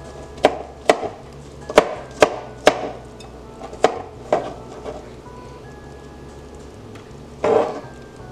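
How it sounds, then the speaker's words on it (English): A knife chops yellow squash and other vegetables on a cutting board while preparing a meal for a blue tongue skink: about eight sharp, close knocks in an uneven rhythm, then a pause and one last duller chop. "for now I'm just chopping the vegetation as well as her meat source"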